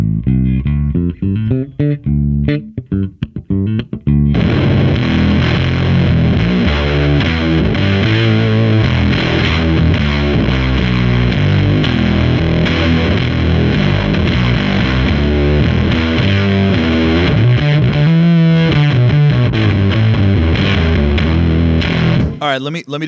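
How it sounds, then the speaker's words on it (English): An electric guitar played through a fuzz pedal with its octave effect engaged, giving a thick, saturated, distorted tone in continuous riffs after a few sparse opening notes. "So what is the right side? The octave? That's the octave."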